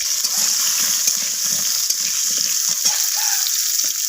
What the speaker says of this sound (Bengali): তো আলুগুলোকে আমি ফোড়নের সাথে একটু ভাজা ভাজা করে নেব।